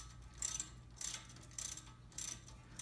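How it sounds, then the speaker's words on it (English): A ratchet snugging down the brake caliper bolts on a Honda Odyssey, four short bursts of rapid metallic clicking spaced about half a second apart, close and crisp, with no talking. "Just grab my caliper bolts, slide those in. And 13, we're going to just snug these down."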